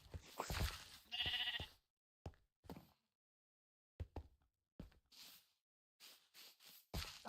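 A sheep character in the Find the Groenblijks video game bleats in a short burst of two or three calls. Scattered knocks and brief clicks follow with quiet gaps between them.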